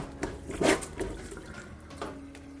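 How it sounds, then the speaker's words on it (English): A plunger pumps over a blocked kitchen sink drain, with a dishcloth stuffed in the second outlet. A few irregular wet squelching plunges sound close by, with gurgling water between them. "get the plunger directly over the sink hole and using a dishcloth of some sort, block the drain and just keep pumping"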